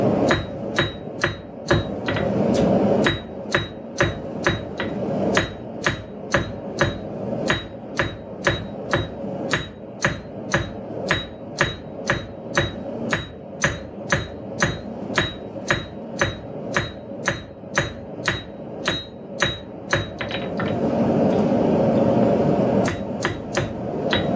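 Steady, rhythmic hand hammer blows ring out on hot steel while drawing out the point of a wall hook, dozens of sharp metallic strikes in a quick even cadence, close and loud.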